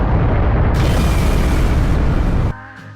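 A gigantic nuclear explosion sound effect: a loud, sustained rumbling blast that roars for about two and a half seconds, then cuts off into a quieter ringing tail.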